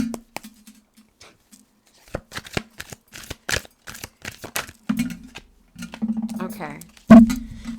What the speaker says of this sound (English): I hate the sound of shuffling, but I have to do it.